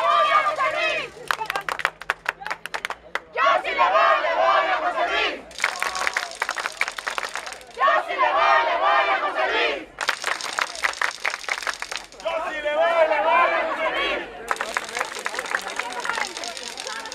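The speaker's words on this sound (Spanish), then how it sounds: "¡Fuerte el aplauso para todos y cada uno de ustedes que nos acompañan" Crowd cheering and applause at a political rally, loud waves of clapping and shouting alternating with bursts of chanting voices, the whole gathering roaring in repeated surges that fill the space.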